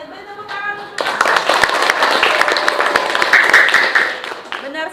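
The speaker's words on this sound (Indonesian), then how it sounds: "Beri tepuk tangan untuk" Students in a classroom clap for a classmate during a social studies lesson, a dense burst of many hands lasting a few seconds between a teacher's spoken remarks.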